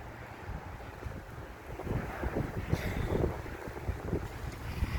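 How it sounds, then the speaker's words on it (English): Gusty wind blows across the microphone outdoors at a plant nursery in Fort Collins beside a small stream as a thunderstorm approaches: a fairly quiet, continuous rushing roar that swells and eases in gusts. "It's getting kind of windy out here because I think we're getting ready to get a thunderstorm."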